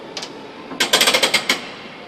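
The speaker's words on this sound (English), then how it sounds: "Cuts the power, hammers on the track brake. Handbrake on." On a preserved tram at a Glasgow transport museum, the track brake and handbrake go on with a quick run of seven or eight loud metallic clacks close by, after a softer pair of knocks, with no voices.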